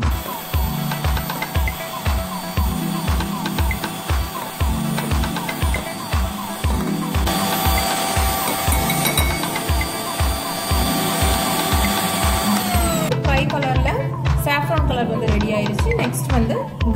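A hand mixer beats cream tinted with food colouring, a steady loud motor whine with rhythmic pulsing beats throughout, shifting in tone near the end.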